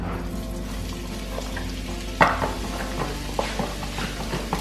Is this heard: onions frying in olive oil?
yes